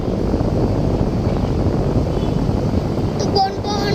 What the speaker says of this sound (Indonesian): Ada angin. Ada angin guys.